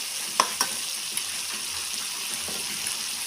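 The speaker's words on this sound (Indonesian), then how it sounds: "Kita aduk-aduk." Sambal fries in a pan on a stove with a dense, continuous sizzle, and a few sharp taps and scrapes of stirring come early, close and clear.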